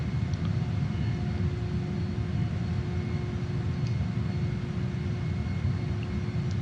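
Saab JAS 39 Gripen jet engine in Microsoft Flight Simulator 2020, throttled back to idle on a landing approach: a steady, loud low rumble with a faint constant whine above it, with no talking.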